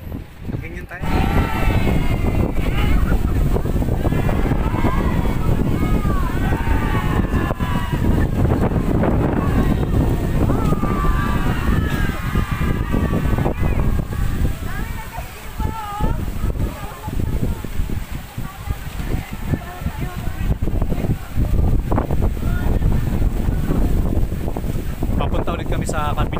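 Strong wind roars and buffets the microphone without a break, a dense rushing noise with people talking over it.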